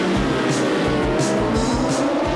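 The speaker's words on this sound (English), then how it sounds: "This is big-time motorcycle road racing." Road-racing motorcycles at over 180 miles per hour pass one after another, loud and near, with engine roar rising and falling in quick repeated sweeps.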